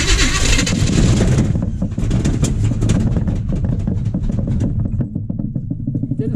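A 1980 Chevy K30 engine cranking in a blizzard, with a loud, steady churning rumble and rapid rhythmic pulses of the starter continuing unbroken, close up.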